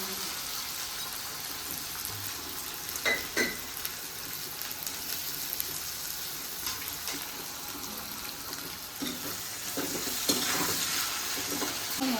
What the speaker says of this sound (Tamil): வெங்காயம் கொஞ்சம் வதங்கினா போதும்